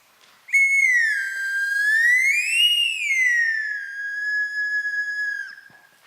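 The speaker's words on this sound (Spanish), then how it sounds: "aquí les traía un pequeño instrumento que se llama la flauta de Bartol" A slide whistle gives one sustained whistling tone lasting about five seconds, gliding up to a peak and then settling lower, clear and close with no talk.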